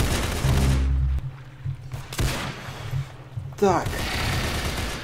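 Rapid gunfire bursts from a golden gun in the Roblox shooter Arsenal on a beach map, loud sharp shots in clusters with a brief spoken word over the game sound.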